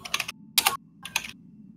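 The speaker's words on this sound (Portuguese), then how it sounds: "nem a supressão de ruído corta meu teclado" Computer keyboard keys clatter in three quick bursts of rapid typing separated by short pauses, close and crisp, with no voices over them.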